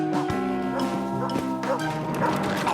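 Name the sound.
dogs barking in a dog pound, cartoon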